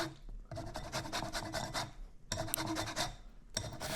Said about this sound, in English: the zest of a lime